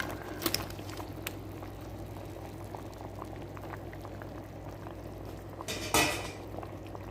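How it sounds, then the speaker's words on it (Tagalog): A pot of chana dal with green chili bubbles at a steady boil, faint and even, with a couple of clinks of utensil on pot and a louder clatter and splash as potatoes go in near the end. "Hayaan ko lang siya kukulo guys ng 5 to 10 minutes ha"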